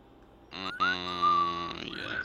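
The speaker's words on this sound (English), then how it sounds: "Well, please don't whistle." Someone whistles a short sustained tone lasting about two seconds, with a quick upward slide near the start, clear and fairly close in an otherwise quiet room.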